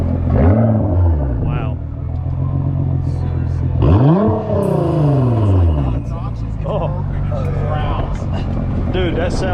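A BMW M4 twin-turbo engine revs hard twice, rising and falling in pitch, then settles into a deep rumbling idle with smaller blips, while people exclaim and talk over it.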